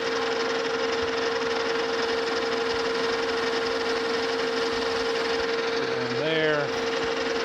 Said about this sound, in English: I'm just going to break these corners. A little chamfer there.